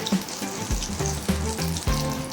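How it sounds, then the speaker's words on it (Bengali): Pumpkin flower fritters deep fry in oil, with a close bubbling sizzle and a few soft knocks as the pieces are turned, heard alone. "এইভাবে আস্তে আস্তে এগুলো এপিট ওপিট করে ভালো করে লাল করে ভেজে নিতে হবে"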